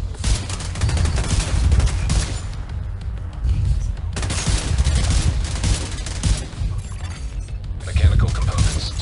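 Gunfire from snipers in the video game The Division 2, dense volleys of shots and clattering mechanical bursts, loud and continuous with brief dips, under a busy mix of game effects.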